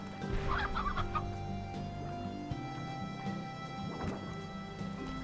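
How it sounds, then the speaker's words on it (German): Chickens cluck in short bursts in the video game Slime Rancher, moderately loud over a steady ambient game backdrop with faint rain-like hiss. "Ach, Hühner."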